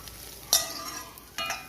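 Papadam pieces frying in hot oil bubble and sizzle close by, with two sharper bursts of crackling as pieces are dropped in or stirred, and no voices.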